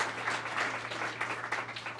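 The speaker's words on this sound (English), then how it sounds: "So please, a big round of applause for these two very important leaders." Audience applause for two leaders at an Ontario economic development announcement in Toronto, moderately faint, with steady clapping for about two seconds.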